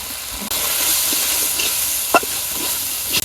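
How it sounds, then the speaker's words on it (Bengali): A wok of blended onion, garlic, ginger and cumin paste with turmeric, chili powder and salt fries with a steady, close sizzling hiss, broken by a couple of brief stirring scrapes. "মশলা কষানো হয়ে গেছে"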